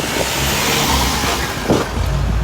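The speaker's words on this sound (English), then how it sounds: "The traffic is tight." Cars in tight road traffic beside a prison on a busy street, engines revving and droning as a steady loud wash, with one brief louder surge partway through; no talking.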